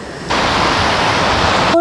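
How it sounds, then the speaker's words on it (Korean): Sea waves heard as a broad, steady rush of surf that starts abruptly and continues evenly at close range, with no voices over it. "바다 소리."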